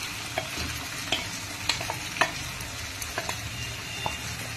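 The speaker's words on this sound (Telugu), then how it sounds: "ఈ చికెన్ వేసి దీన్ని బాగా కలిపేస్తాం." Chicken soaked in yogurt is stirred into onion paste in a pan, a soft sizzle running throughout with scraping clicks from the spoon at irregular intervals, close and fairly quiet, with no talking.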